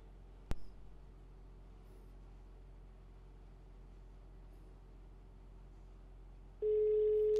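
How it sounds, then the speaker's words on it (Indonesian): A telephone call is placed, with a faint low hum and a single click, then a steady electronic ringback tone starts near the end and holds. "kita akan melakukan wawancara telepon dengan Ibu Elsa"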